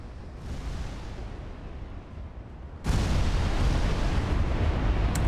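Naval gunfire and shell explosions in a battle in Ultimate Admiral Dreadnoughts: a dense, continuous rumble of booming guns that jumps abruptly louder about halfway through and stays heavy to the end, with no talk.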